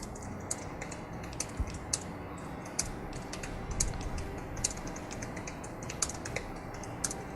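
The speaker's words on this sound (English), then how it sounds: "there's some, like, typing in the background, I think." Faint computer keyboard typing in the background, a steady run of quick light clicks with irregular spacing under a low room hiss, no voices.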